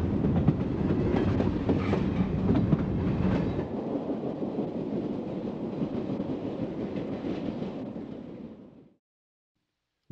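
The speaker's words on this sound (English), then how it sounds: "with a springtime local followed by a summertime train." A 1960s Santa Fe train rolls past on railroad tracks at a tunnel's east portal, a loud, steady rumble of wheels and cars that holds for several seconds, then fades off and cuts to silence.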